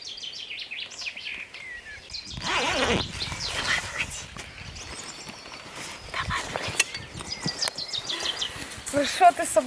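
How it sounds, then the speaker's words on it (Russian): Spring birdsong by the Neman river on a cold April morning, with several birds chirping and trilling in the high range while people talk over much of it and a dog may be nearby. "Птички наконец-таки поют."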